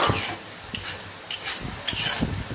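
Grains of rice scrape and rasp continuously as they are stirred in a pan of a six-pan puffed rice machine with roaster, with steady rubbing and a few louder scraping bursts close by, and no talk.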